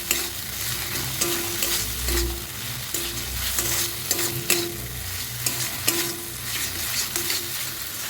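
Tomato and a clove of garlic sauté with meat masala in a pan for aloo dum, a continuous sizzle of frying broken by repeated scraping strokes of a spoon stirring against the pan.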